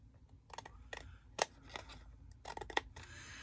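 Scissors snipping through cardboard while making a box, a series of sharp close crisp cuts in irregular bursts with quiet pauses between them.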